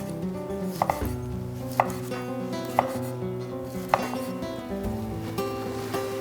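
A knife chops bacon into sticks on a board, striking with sharp, evenly spaced knocks about once a second while soft background music plays underneath.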